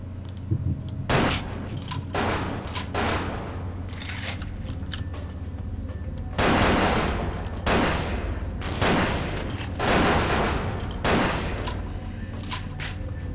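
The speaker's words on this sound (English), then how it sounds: "rapid fire" Rapid bursts of gunfire from Vampire the Masquerade: Bloodlines, loud repeated volleys in quick succession over a steady low game rumble, with no talk.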